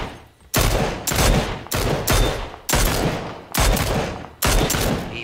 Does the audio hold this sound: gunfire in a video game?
yes